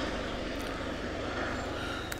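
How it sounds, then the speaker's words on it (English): A helicopter passes overhead as a steady, loud broadband rotor and engine drone with no talking. "Another helicopter going by."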